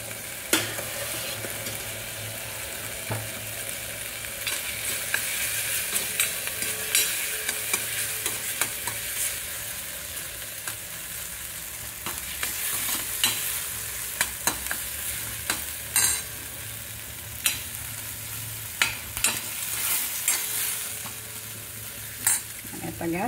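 Fenugreek (methi) bhaji with crushed peanuts being sautéed in a pan, a soft steady sizzle with frequent spatula scrapes and clicks that grow sharper toward the end, heard close with no speech.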